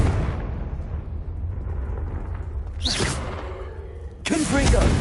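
Confringo fire-blast spell bursting in the Hogwarts Legacy video game, two sharp explosive whooshes over a rumbling low backdrop, the second louder and sustained near the end.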